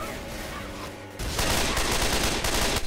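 Sustained rapid gunfire from a group of players opening fire on a witch in a co-op video game, loud and dense bursts with a quieter stretch before the volley erupts.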